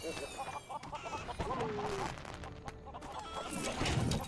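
Roosters clucking and crowing in the Lego Worlds video game, scattered clucks and a short crow-like call amid background game sounds, with faint speech mixed in.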